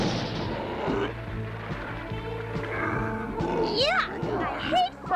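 Cartoonish booms and crackling blasts burst under excited chatter, with whistling rising and falling squeals between the explosions.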